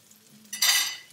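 Spinach is briefly stirred in a non-stick pan, a quiet pause followed by a short, brighter rustling scrape and faint sizzle lasting about half a second.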